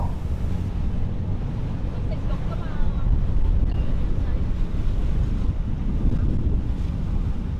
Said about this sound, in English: You can see the other boats coming in.